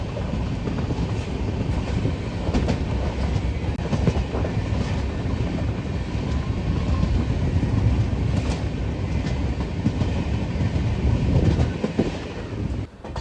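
A weekly express passenger train rolls along its rails while slowing down toward the next station, with a steady, loud, continuous rumble and faint rhythmic clatter of wheels throughout.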